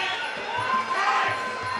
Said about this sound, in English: Big round of applause to both great fighters